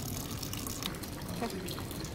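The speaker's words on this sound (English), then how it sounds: "Alright, so now we have some water in our bucket." Clean water trickling from a Sawyer bucket filter into a bucket, a faint, steady splashing stream at low level, with soft background noise and no clear talk.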